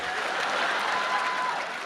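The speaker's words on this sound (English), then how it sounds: "Now the old people are applauding." Older members of a college commencement audience applaud, a moderate, fairly distant wash of many hands clapping, steady through a brief moment.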